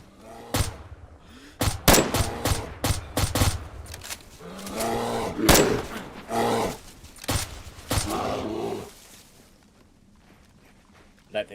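Gunfire aimed at a bear in the survival game DayZ: a series of sharp, loud shots spaced irregularly across the stretch, with people talking between and over them.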